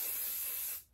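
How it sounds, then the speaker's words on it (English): Hairspray hisses from an aerosol can in one steady, close burst onto hair during styling, cutting off abruptly just before the end. "I'm going to give it a light spray"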